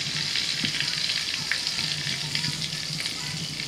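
Whole cardamom, cinnamon and cloves fry in white oil and butter, giving a steady, close hiss and sizzle with a few soft crackles, continuous from start to finish.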